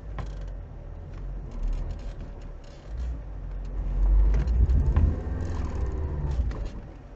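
A Lada Niva 4x4 on mud tyres, in second low gear, strains its engine through thick mud, a continuous labouring drone that swells in revs midway and stays loud throughout.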